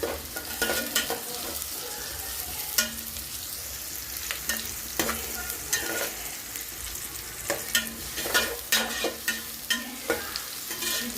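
Capsicum sautéing in hot oil with onions already softened in the pan, a steady close sizzle broken by repeated scraping stirs of a spoon or spatula, with no talking.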